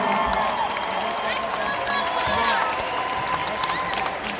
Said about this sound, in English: give a big round of applause for every team sitting here on the stage